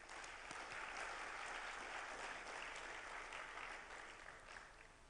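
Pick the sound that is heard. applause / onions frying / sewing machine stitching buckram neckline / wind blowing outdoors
applause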